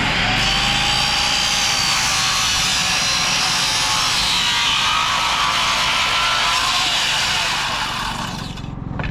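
A power saw cuts bevels on the ends of wooden framing boards while a gable wall is built, a loud sustained whining cut heard up close that runs nearly the whole time and tapers off at the end.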